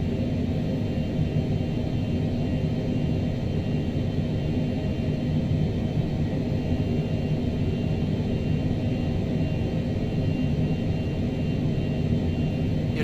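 A Cessna Longitude business jet in a flight simulator descends on an RNAV approach into Aspen, Colorado, its engines giving a steady, even broadband rumble and hiss throughout with no voices.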